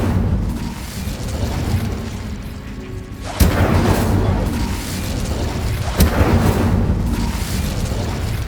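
The Incendio fire spell in Hogwarts Legacy, a dense roaring whoosh of flame over steady game noise, with two sharp booming bursts partway through, loud and close.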